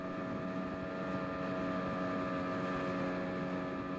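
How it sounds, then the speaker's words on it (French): Small motorboats race down a jungle river at about 40 km/h, a steady droning engine hum with water and wind rush that holds constant throughout, no voices. "nous descendons les rivières Mapi et Kaboul à bord de petits bateaux à moteur filant à 40 km/h"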